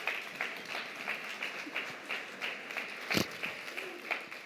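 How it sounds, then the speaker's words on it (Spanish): A church congregation claps in applause, a dense continuous patter of many hands at moderate volume with a sharper clap standing out near the end, heard alone without voices. "Denle un aplauso al Señor"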